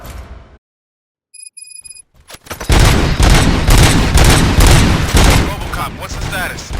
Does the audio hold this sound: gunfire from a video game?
yes